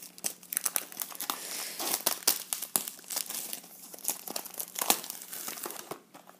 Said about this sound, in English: So I'll begin straight away the booster box opening